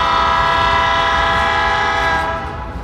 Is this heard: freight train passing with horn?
yes